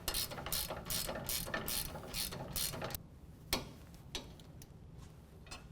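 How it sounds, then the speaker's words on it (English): A 9/16 ratchet clicks in rapid repeated strokes while tightening sway bar link hardware on a 2017 Ford F-150 4WD during a lift kit install, then slows to a few isolated clicks. "9/16 ratchet and wrench to tighten down our hardware to 45 foot-pounds"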